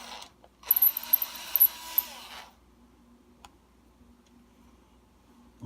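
An electric drill bores a pilot hole for a screw in a Telecaster guitar, a close, whirring burst lasting about two seconds, followed by quiet with faint ticks.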